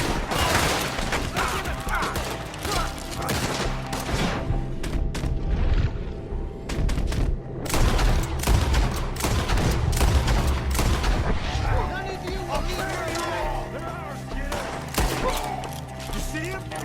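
Video game gunfire in a Red Dead Redemption 2 shootout at a ranch, with dense rapid volleys of rifle and pistol shots cracking and booming under shouted voices, a brief lull midway, then continued firing.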